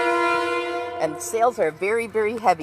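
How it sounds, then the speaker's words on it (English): A train horn sounds near Mystic Seaport, one steady, loud tonal blast lasting about a second, followed at once by a voice talking. "Hello, train. That's the train, not a boat."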